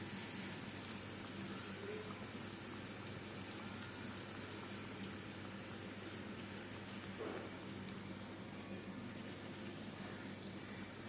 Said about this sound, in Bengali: এইভাবে ভেজে নেব আমি